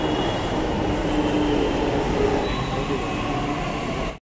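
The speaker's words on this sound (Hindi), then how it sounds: "दिल्ली मेट्रो आ गया।" Delhi Metro train pulling into a station, a steady loud rumble of wheels and carriage noise filling the whole stretch with a faint squeal and background voices, cutting off abruptly at the end.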